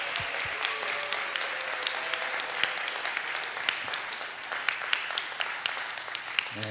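A congregation claps in sustained applause at the closing worship service of a church summit, a dense wash of many hands with occasional sharper claps, steady and moderately distant.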